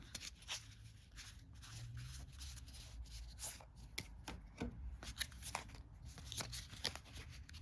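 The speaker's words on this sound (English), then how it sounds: "You've got a bunch of decks of cards." Decks of Disney Villainous board game cards being handled up close, a soft continuous run of papery rubs, taps and riffles with faint voices in the background.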